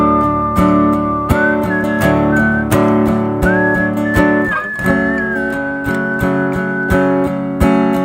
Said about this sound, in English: that whistling I literally was just doing